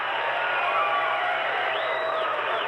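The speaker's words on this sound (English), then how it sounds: "What are you jerks clapping about?" Studio audience clapping and cheering on a sports radio talk show in Portsmouth, New Hampshire, a dense steady wash of applause held at an even level throughout.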